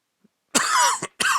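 Two hoarse coughs from a person recovering from a cold, the first long and rough, the second short, close to the microphone in a quiet room.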